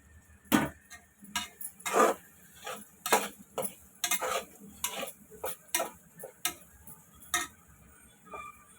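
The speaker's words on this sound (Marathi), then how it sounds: "हे चांगलं परतून घेते" Vegetables with curry leaves are sautéed in oil in a pan, heard as a sparse, irregular run of clinks and scrapes of a utensil against the metal, close and on its own.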